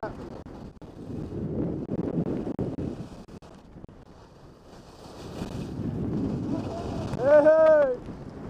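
Gusts of wind buffet the microphone on a ski slope, a rough low rumble that swells and fades, with a brief tonal whistle near the end.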